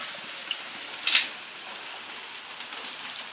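Steady rain falls outside a motorcycle workshop as a soft, even hiss with scattered drip taps and one brief louder splash, heard alone without speech.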